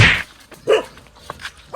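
A dog gives a single short close bark, followed by fainter brief yips and rustling.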